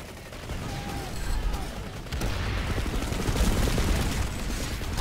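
Rapid bursts of gunfire from a multiplayer shooter video game, crackling and dense across the whole stretch, getting louder and busier partway through, with faint voices underneath.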